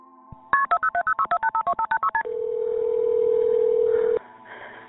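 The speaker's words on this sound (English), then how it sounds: "Their neighbor Peggy Wynn frantically dialed 911" Telephone keypad dialing 911 on an emergency call: a quick, evenly spaced run of clear touch-tone beeps, followed by one long steady tone that cuts off abruptly.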